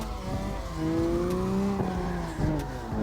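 The Kitsune car in CarX Drift Racing 2 holds a long drift, its engine droning at steady high revs while tires squeal continuously, with pitch shifts as the throttle changes.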